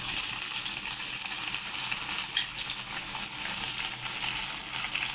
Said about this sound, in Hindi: ये देखें चिकन की बोटियाँ जो है वो मैंने फ्राई पैन में मैंने शामिल कर दी हैं। अब मैं इसको फ्राई कर रहा हूँ।